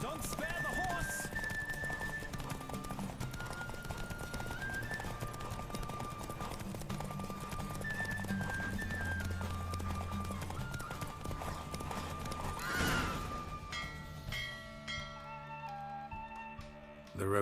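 A horse gallops in The Witcher 3: Wild Hunt video game, with rapid rhythmic hoofbeats running continuously under game music and ambient sound.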